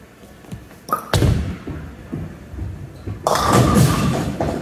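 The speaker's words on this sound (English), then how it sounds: "We're just going to get some practice shots in and hopefully get a couple strikes." Bowling ball striking pins at a bowling alley during practice shots: a sharp thud and rattle around one second in, then a louder, sustained crash of scattering pins over lane rumble toward the end.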